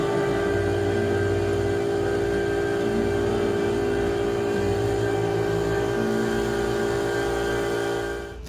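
Compressed air hisses steadily into a tire just reseated on its wheel after mud was cleared from the bead, with a loud, continuous, close rush and a mechanical hum that ends abruptly at the end.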